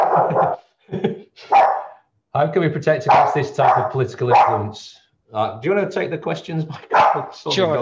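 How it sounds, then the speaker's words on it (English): A pet dog barks once or twice at home in the middle of a continuous stretch of near, clear conversational speech, the barks brief and partly buried under the talking. "Sorry, that's my dog."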